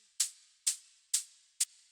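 Hi-hat hits built from an Operator synth patch in a dark melodic techno production, four crisp noisy ticks evenly spaced with short decays, bright and alone with no voice.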